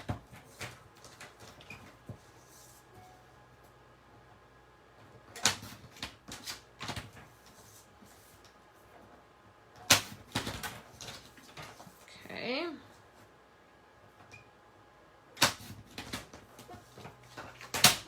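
Scissors cutting out a square of paper for a paper pumpkin craft project: scattered bursts of crisp snipping and rustling paper, close and moderately loud, with quiet gaps between cuts.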